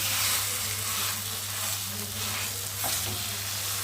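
Shrimp and taro curry sizzles steadily in a pan as it reheats, a continuous close frying hiss with faint stirring scrapes and no talking.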